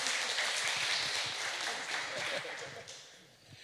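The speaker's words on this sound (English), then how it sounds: "So big applause for Nikola," Sustained applause from a conference audience at a crypto and payments event, a dense wash of clapping that gradually thins toward the end.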